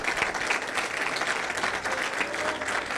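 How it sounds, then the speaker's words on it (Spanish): A church congregation applauds during a Sunday service, a full, even stretch of many hands clapping together, loud and sustained from start to finish, with faint voices mixed in. "ahí sí que le vamos a dar un aplauso al Señor"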